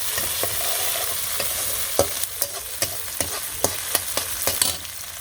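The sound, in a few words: chopped onion frying and stirred in oil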